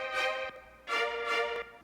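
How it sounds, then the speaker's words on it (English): Violins in an orchestral music production play sustained bowed string swells: a held note, then two more rising and falling phrases with rich harmonics, moderately loud with nothing else over them. "We have violins,"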